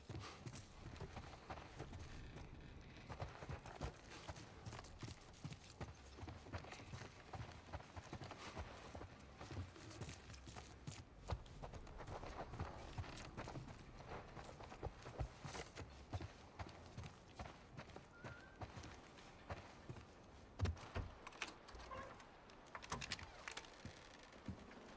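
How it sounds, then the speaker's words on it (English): Horse hooves clip-clop in a steady, fairly quiet walking rhythm in The Last of Us Part I, continuing throughout, with faint background noise. "Let's get back to the horses."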